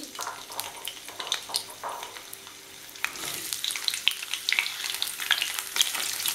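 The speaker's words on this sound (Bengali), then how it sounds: "তেলটা গরম হয়ে গেছে, আমি ফুলকপিটা দিয়ে দিচ্ছি।" Cauliflower frying in hot oil in a pan gives a soft crackle that swells into a brighter, busier sizzle with sharp popping spatters partway through.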